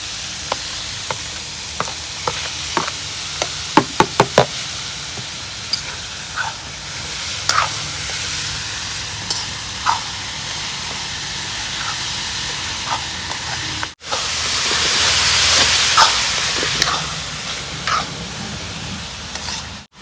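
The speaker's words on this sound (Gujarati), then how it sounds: "ડુંગળી ફ્રાય કરશું" Crushed onion frying in a hot pan, a steady hiss and sizzle with occasional sharp pops and crackles, growing louder and fuller midway as steam builds.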